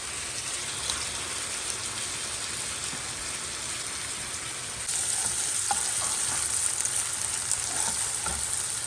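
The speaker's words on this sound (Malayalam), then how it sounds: "സവാള ഏകദേശം ഗോൾഡൻ ബ്രൗൺ ആയി തുടങ്ങിയിട്ടുണ്ട്" Onions fry in a pan for chicken kondattam, a steady dense sizzle like light rain that continues throughout, growing slightly louder partway through, close up with no voices.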